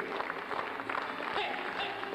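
Audience in a French variety show applauding a performer as he makes his entrance, a dense steady patter of clapping with crowd murmur and a voice over it.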